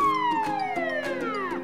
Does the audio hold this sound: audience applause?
no